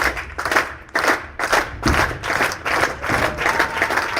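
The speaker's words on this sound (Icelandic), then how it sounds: "Þá fær hann heiðursklapp vonandi hérna í lokin." A crowd at an Icelandic bowling championship final gives the new champion honorary applause in steady rhythmic unison claps, roughly two per second, loud and close with faint voices underneath.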